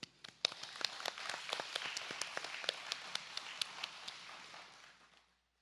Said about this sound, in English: can we give a hand of applause to the leaders?